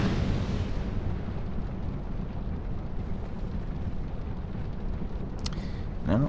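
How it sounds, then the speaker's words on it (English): Fire bombs dropped by sorceresses in Dark Souls 2 burst in a deep, rumbling roar that fills the clip, with a couple of sharper crackling hits near the end. "You can tell we've got sorceresses dropping fire bombs to make it spicy."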